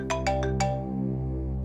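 A phone ringtone for an incoming call plays a quick run of four bright chiming notes, then rings out over a steady sustained tone, loud and close.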